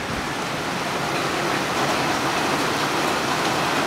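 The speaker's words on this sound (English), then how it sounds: "That rain?" Heavy rain pouring outside a house, a loud, continuous, even roar of water with no other sounds standing out.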